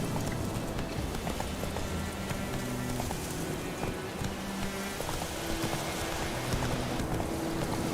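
In The Witcher video game, the horse Roach gallops with steady, fast hoofbeats under a dense, rain-like wash of noise and low droning tones, loud and continuous throughout.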